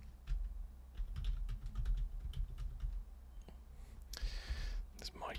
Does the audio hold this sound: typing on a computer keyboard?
yes